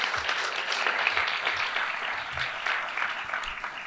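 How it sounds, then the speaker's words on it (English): Audience applause at a thrift club's annual academic awards ceremony, honoring Senator Ryan Walters: a steady, dense wash of many hands clapping at moderate level that holds evenly for about four seconds without talk. "Can we have a round of applause for him"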